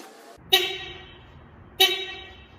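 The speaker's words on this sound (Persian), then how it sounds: "اول 2 تا بوق بزنم صدای بوقش رو بشنویم" Two short, sharp honks from a Pride car horn about a second apart, close and loud, with quiet between them.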